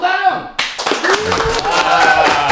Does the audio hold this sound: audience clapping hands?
yes